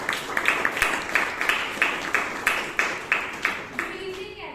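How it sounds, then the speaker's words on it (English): A Toastmasters meeting audience in Bangalore claps for a speaker, a quick run of evenly spaced claps from a small group, close and fairly loud, fading out after a few seconds. "give it a big round of applause for Toastmaster Rashi"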